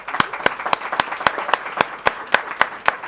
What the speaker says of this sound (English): I really want to give her a round of applause